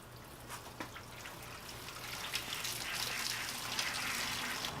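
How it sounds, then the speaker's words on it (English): Coolant and water drain steadily from the bottom of a car radiator into a bucket, a faint continuous trickling and splashing that thickens slightly as the flow continues, with a low hum beneath. "I'm going to pop the drain cap off the bottom of the radiator and drain all of the coolant and water out of the radiator and engine into the bucket"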